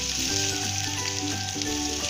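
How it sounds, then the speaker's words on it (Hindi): Onions frying in oil while cooking jackfruit sabzi, an even, close crackling sizzle that continues steadily with a faint tonal hum underneath. "जितनी देर हमारी प्याज तली जा रही हैं"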